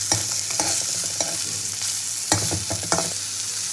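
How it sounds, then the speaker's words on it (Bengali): Fish frying in oil in a pan, a continuous loud sizzle with intermittent clinks and scrapes of a spatula turning the pieces, close and without talk. "মাছগুলো ভেজে তুলে নিয়ে তবে কড়াইতে ঘিটা দেবো"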